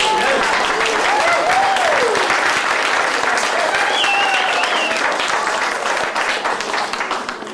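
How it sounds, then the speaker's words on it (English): A crowd at the Harper Mountain Native Spiritual Gathering gives another round of applause, with full, sustained clapping and whistles or cheering voices rising above it, tapering slightly at the end. "Give him another round of applause."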